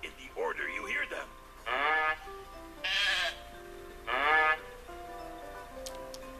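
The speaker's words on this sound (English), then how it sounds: "Play animal sounds in the order you hear them." Farm animals heard one after another: a short varied call, then three strong harmonic bleating or lowing calls about a second apart, each loud and clear against a quiet background.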